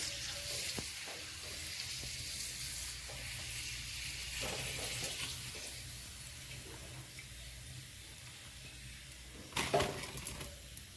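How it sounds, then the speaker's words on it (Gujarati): Papad and small dough bowls fry in hot oil with a steady, close sizzle that runs throughout. A few clinks and a louder crackling burst come near the end. "પાપડા તળે જ્યાં અને વાટકી પણ તળે છે"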